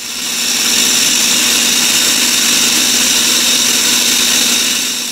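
An electric machine grinding fresh corn kernels for corn tamales (uchepos), a loud, steady motor whir and grinding roar held evenly throughout, no talking.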